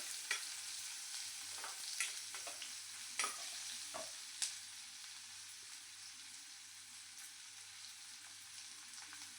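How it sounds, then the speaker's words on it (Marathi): Chopped onion fries with garlic in oil in a pan for a cabbage vegetable dish, a soft, steady hiss of sizzling broken by a few stirring clicks and taps, quiet and close, with no talking. "आपण आता यात टाकूया कांदा आता कांद्याला पण आपण एक मिनटं होऊ देऊया"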